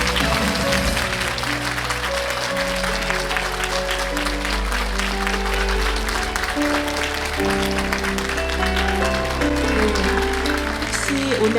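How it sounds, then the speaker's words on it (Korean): An audience at a book launch event for a provincial governor applauds steadily, dense continuous clapping that stays loud throughout, with music playing underneath. "여러분 박수 부탁드리겠습니다."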